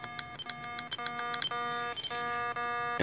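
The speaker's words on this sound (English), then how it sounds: "You want to hit speaker mode to where the RF alarm and speaker comes on" Rapid electronic beeping alarm tones chirp in quick repeated bursts, a high, piercing stuttering pattern close by.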